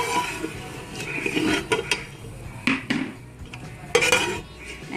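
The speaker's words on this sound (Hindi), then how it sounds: "इसको चम्मच की मदद से ऐसे मैश करते जाएं, साइड पे लें और ऐसे ऐसे करते जाएं।" Cooked whole masoor dal mashed with a metal spoon in a pot, the spoon clinking and scraping against the sides in repeated irregular strokes, close and fairly loud, with no talk.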